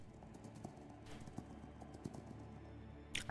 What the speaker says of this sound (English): I could hear the faint sound of horse hooves echoing from above.